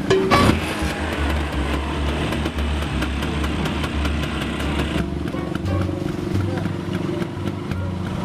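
A Vespa scooter engine starts and settles into a steady, loud idle with a low, even throb that continues throughout, while people talk over it.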